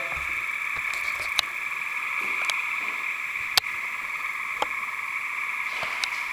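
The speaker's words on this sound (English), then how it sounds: "And you can hear all the frogs croaking." Frogs croaking at night outdoors, a steady dense chorus from many frogs with occasional sharp clicks, continuous throughout.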